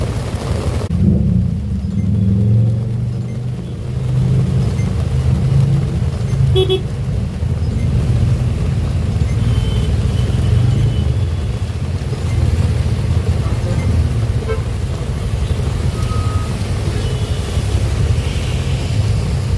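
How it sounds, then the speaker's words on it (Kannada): Loud, continuous downpour roaring over idling traffic at Hennur Cross, Bengaluru, with a few distant car horns sounding through the rain. "ನೋಡಿ ಏನು ಜೋರಾಗಿ ಮಳೆ ಹೊಡಿತಿದೆ ಅಂದರೆ, ತುಂಬ ಜೋರಾಗಿ ಮಳೆ ಹೊಡಿತಿದೆ."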